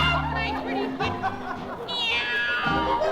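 A performer's voice imitates a cat, with drawn-out, wavering meows rising and falling in pitch, sung close and clear over a light musical background in an old radio-style recording.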